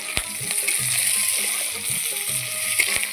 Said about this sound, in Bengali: দিয়ে আমি আবারও হালকা করে লাল করে ভেজে নিই